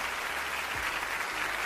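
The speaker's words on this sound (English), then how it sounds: "they really had to show all y'all clapping" An audience at an awards event in Montgomery, Alabama claps steadily in a dense, even patter of applause, heard at a moderate distance with no talk over it.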